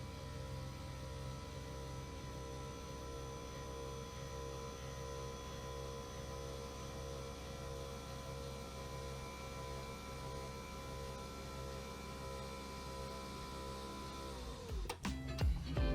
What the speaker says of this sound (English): here's an example just to show how the desk sounds